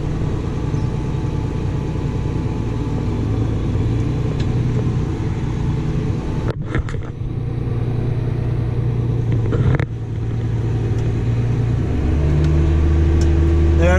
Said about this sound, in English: I'm just running the throttle, moving it up as soon as the pile gets up close enough